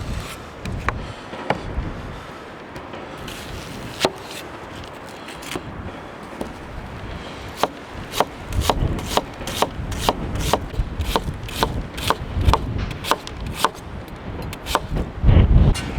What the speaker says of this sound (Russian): Это лук, который мы нарезаем полукольцами.